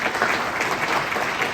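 Audience applause at a French-language digital technology conference on AI, cloud and startups, a dense, steady wash of clapping from a large crowd filling the whole moment.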